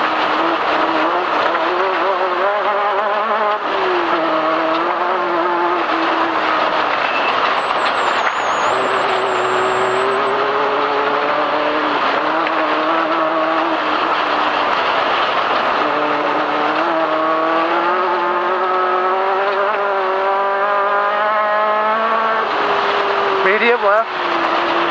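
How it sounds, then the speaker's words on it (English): Race car engine running at speed in the Reno 500, a loud, sustained drone whose pitch rises and falls through the gears and corners, with in-car voices talking over it. "Car's running great."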